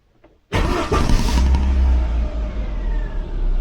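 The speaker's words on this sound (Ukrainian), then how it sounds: "Спробуємо завести двигун, побачимо, що він нам покаже." After a brief quiet moment, a car engine fires up abruptly with a loud roar, then runs at a steady, rumbling idle.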